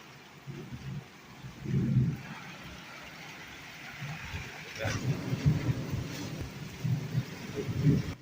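Heavy storm rain pours steadily at a mud house in a Punjabi village, with water reaching the room, a dense broadband wash with low rumbling swells, while a voice speaks over it.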